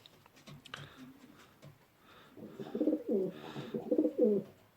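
Fancy pigeons coo in an allotment loft, a run of soft, throaty rolling coos building in the second half after a few quiet rustles and bumps, close and moderately loud.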